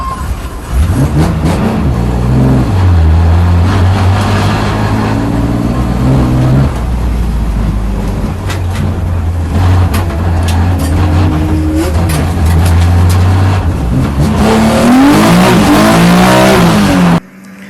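Race cars at a CSCC race day at Donington Park rushing through the Craner Curves, one cutting across the grass: loud, sustained engine roar with shifting pitch as cars pass close, then fade.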